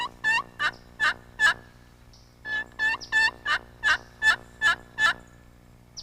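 A turkey call imitates a kee-kee run: a few thin, high whistles, then a yelp, with the pattern repeating in two close, clear bursts and no talk.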